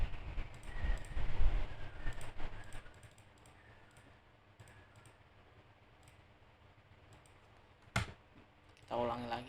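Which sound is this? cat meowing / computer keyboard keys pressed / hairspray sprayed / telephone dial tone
computer keyboard keys pressed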